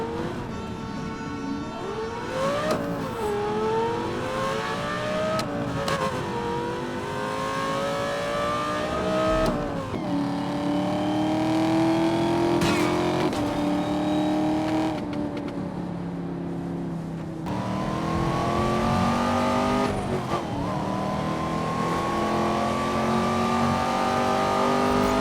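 Car engines revving in the 2012 video game Need for Speed Most Wanted, among them a Range Rover Evoque: repeated rising and falling high-pitched engine whines with sharp gear-shift drops, loud and continuous across the stretch.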